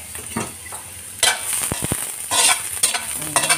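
Garlic frying in hot cooking oil, bursts of sizzling and stirring with a few sharp utensil clicks against the pan, close and fairly loud, no talk.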